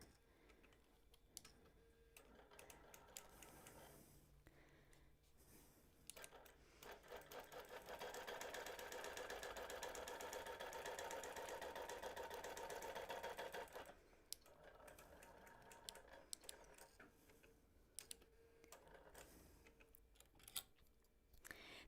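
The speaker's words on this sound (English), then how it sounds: "I'm going to go ahead and baste the sides with my 1/4 inch basting stitch." A sewing machine runs a quarter-inch basting stitch along the sides of a quilt, starting in short bursts, then a long steady whirring run in the middle, followed by more stop-and-start stitching and light clicks, close and clear with no talking.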